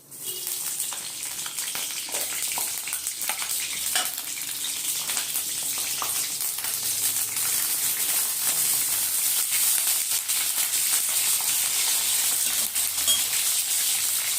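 Chillies frying in a pan give a steady, dense sizzle that runs unbroken from start to finish, loud and close with no voices.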